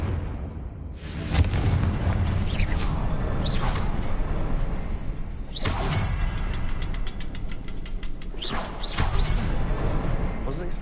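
The Confringo fire spell in the video game Hogwarts Legacy bursts in several sharp booming blasts over a loud, continuous game soundscape, spaced a few seconds apart.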